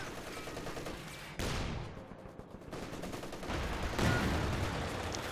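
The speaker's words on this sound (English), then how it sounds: "A lot of fire there down the machine gun crew there in the centre." Machine gun fire from a Maxim MG crew and other infantry weapons in the Company of Heroes 2 strategy game, a dense continuous rattle of rapid shots with a louder burst partway through, loud and sustained with no talking.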